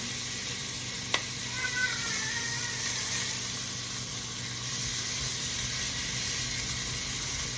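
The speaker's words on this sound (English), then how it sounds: "I like to use a deeper frying pan just so the grease doesn't pop out quite so bad" Bacon frying in a deep frying pan on a stovetop, a steady close sizzle with a sharp pop early on and faint stirring or scraping, with no talk.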